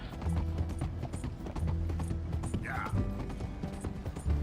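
Steady clip-clop of horse hooves with rattling, creaking coach wheels and a brief whinny partway through, loud and close, in the video game Red Dead Redemption 2.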